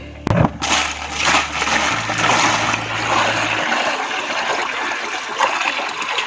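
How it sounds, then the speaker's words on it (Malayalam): Water splashes and pours steadily into a guppy fish tank, a broad rushing sound that runs for several seconds before fading to a quieter trickle. "നമുക്ക് ഇതിനകത്ത് കുറച്ച് വെള്ളം ഒഴിച്ചാൽ മതി"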